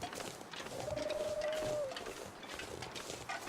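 In the survival game The Long Dark, a single thin whistling bird call glides slightly downward for about a second over a dense, noisy wind-like ambience.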